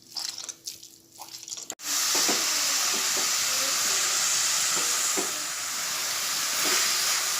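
Grated bottle gourd drops into hot ghee for halwa and breaks into a loud, steady hissing sizzle that carries on without pause after a brief quieter start with faint background noise.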